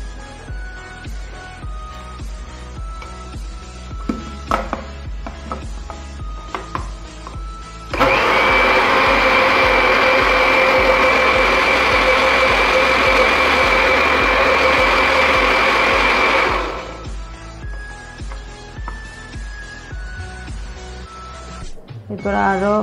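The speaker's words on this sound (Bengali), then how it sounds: "অল্প তেল দিয়ে আবার ব্লেন্ড করে নেব।" A blender whirs loudly and steadily for about eight seconds, blending homemade mayonnaise with oil and vinegar, then cuts off; quieter kitchen noises come before and after.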